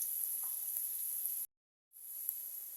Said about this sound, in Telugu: ఇందులోనే సన్నగా చాప్ చేసుకున్న గార్లిక్ వేసుకుందాం. ఇప్పుడు కొద్దిసేపు ఫ్రై చేసుకుందాం